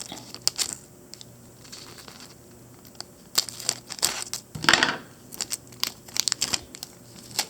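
Tape being cut into a small piece for wrapping around part of a Christmas tree, heard as brief close crinkling and snipping bursts with a louder crumple in the middle, against a quiet room.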